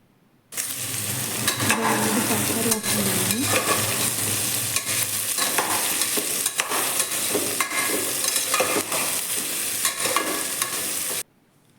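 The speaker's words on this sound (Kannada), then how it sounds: "ಫ್ರೈ ಮಾಡಿ ಚೆನ್ನಾಗಿ ನೋಡಿ ಈ ಥರ ಚೆನ್ನಾಗಿ ಫ್ರೈ ಮಾಡ್ಕೊಳ್ಳಿ" Vegetables and sprouts frying and being stirred in a pan for sprouts sambar, a steady loud sizzle broken by repeated scraping stirs of a spoon against the pan, with no one speaking.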